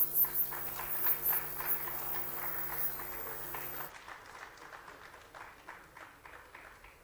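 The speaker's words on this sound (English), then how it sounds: "General Gowon, please keep clapping." An audience claps at a commemorative symposium, the claps fairly faint and roomy and falling into a loose rhythmic beat that continues for several seconds.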